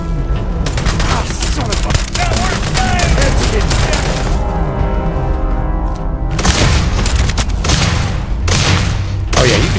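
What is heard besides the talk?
gunfire in the video game Starfield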